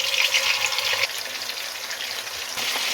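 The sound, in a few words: kebabs frying in hot oil in a wok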